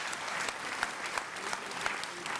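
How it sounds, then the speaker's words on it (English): Honourable members at the 2023 Eastern Cape State of the Province Address clap steadily for the Premier, a continuous wash of many hands with a few sharper nearby claps standing out. "We can give a clap of honourable members"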